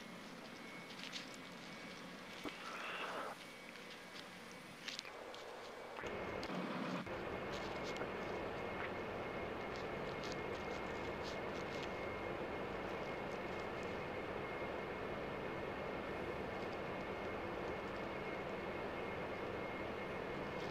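A Boeing 737 landing in a flight simulator, its aircraft engines a steady, droning roar that steps up sharply in loudness partway through and then holds constant.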